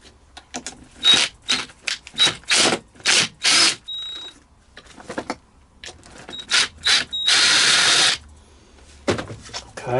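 A ratchet works number 10 bolts loose on a Porter Cable air compressor in a shop, sounding as bursts of quick metallic clicking in short strokes, close and fairly loud, with a longer continuous burst near the end.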